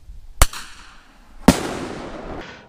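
Two sharp bangs from a hunter's signal-flare bear scarer: a first crack, then about a second later a louder burst that rings out and decays over a second or so in open air, with little else around it.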